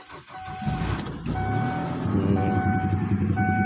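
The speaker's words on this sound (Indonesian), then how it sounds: "Ini coba kita starter." Kia Carnival GS minivan engine cranking and catching into a steady idle, a continuous close rumble with faint chime-like dashboard tones over it.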